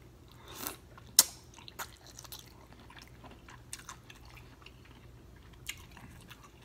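Colossal shrimp from a seafood boil being bitten and chewed close to the mic, a few crisp bites followed by quiet, wet chewing and soft crunches.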